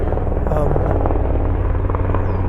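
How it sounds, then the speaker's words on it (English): A helicopter's steady, throbbing rotor drone fills the scene, loud and continuous as it passes overhead, with a voice speaking faintly beneath it. "Oh, it's a helicopter here."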